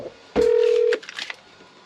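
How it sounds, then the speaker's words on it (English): A telephone sounds a single steady electronic tone lasting just over half a second, clear and fairly close, then falls silent, leaving faint low rustling behind. "I'm going to answer the phone because that is ringing."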